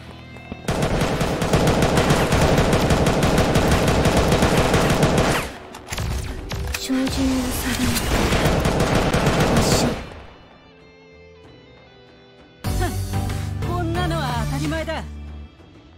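Sustained loud video game gunfire in Angel Squad after aiming and firing: long dense automatic bursts roar for several seconds, pause briefly, resume, then a quieter gap before another heavy volley, with effects layered in.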